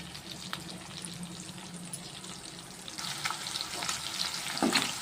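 Slit brinjal slices cook in a pan with a soft, steady sizzle, growing a little louder and busier toward the end with occasional stirring scrapes.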